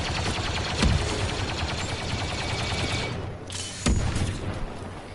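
Grenade blasts and gunfire in the Star Wars Battlefront 2 beta, a steady roar of battle punctuated by two sharp, heavy bangs, loud and close, with no voices.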